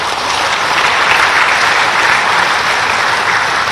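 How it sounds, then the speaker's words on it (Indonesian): Employees of a government ministry applauding together, a dense, loud, continuous burst of clapping that fills the room for a few seconds with no talking over it. "tepuk tangan buat kalian"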